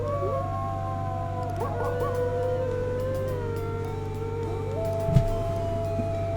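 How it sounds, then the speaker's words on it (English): A wolf howls in the video game Quest for Glory IV, long wavering tones rising and falling over a steady low hum of game music, with a brief sharp tick near the end. "Nice wolf."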